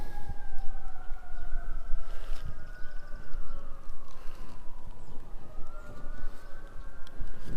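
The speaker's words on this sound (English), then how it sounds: "Sirens, oh my gosh, man. They really nailed the tone on sirens." A wailing emergency siren sweeps slowly up and down in pitch, layered tones rising and falling over steady rumbling background noise, fairly distant and continuous.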